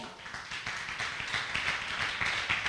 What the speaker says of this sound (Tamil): நல்லா கைதட்டுங்க பார்ப்போம்